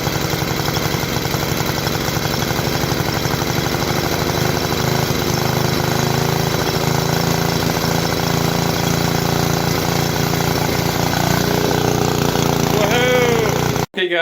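A 1955 Toro Sport-Lawn mower's small engine runs steadily and loudly up close after a restoration, a continuous mechanical drone that cuts off abruptly at the end.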